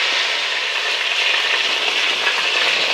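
Chicken pieces brown in a frying pan, giving a loud, dense, unbroken sizzle that stays close and steady throughout.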